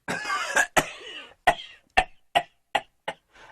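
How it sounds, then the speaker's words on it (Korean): A close, rough coughing fit from an old man at night: about eight harsh coughs in a row, spaced fairly evenly with short pauses between. "할아버지는 밤중에도 잠을 자지 못하고 콜럭콜럭 기침을 했어요."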